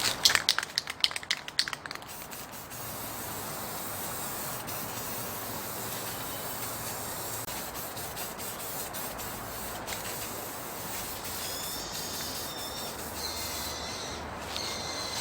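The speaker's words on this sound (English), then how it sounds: "take them outside, and spray them white" A long, steady hiss of an aerosol can spraying white paint onto prop heads outdoors, continuous for many seconds after a few rattling clicks at the start.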